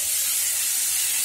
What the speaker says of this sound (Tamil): தக்காளியை சேர்த்து நல்லா வதக்கணும்